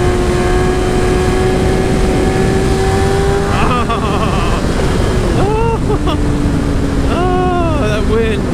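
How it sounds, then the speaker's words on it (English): Strong mountain wind roaring steadily against the microphone beside an idling motorcycle, a constant loud rush over a low engine hum, while a rider's voice exclaims briefly. "Oh, that wind. That wind is not your friend up here in the mountains."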